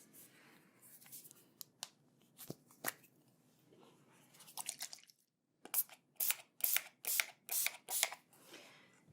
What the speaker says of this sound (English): I'm going to prep my hands with some sanitizing spray.